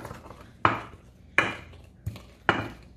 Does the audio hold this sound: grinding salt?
yes